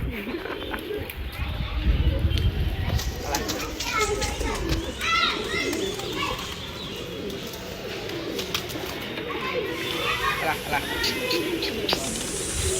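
Pigeons coo softly amid a busy flock, with children's voices and chatter mixing in nearby throughout.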